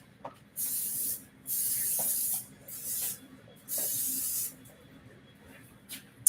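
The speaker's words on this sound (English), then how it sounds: "So now I just put a little bit of the original, spray, non-stick spray" Non-stick cooking spray hisses from a can in four or five short bursts, loud and close, with brief pauses between sprays in a kitchen.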